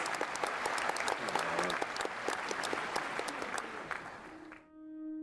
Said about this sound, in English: let's give Clint a big round of applause